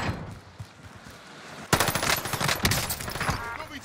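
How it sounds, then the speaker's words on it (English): Rapid bursts of automatic gunfire, SMG shots in the Warzone Rebirth Island video game, start suddenly after a quieter stretch and continue in loud, close volleys with sharp cracks. "I'm taking fire."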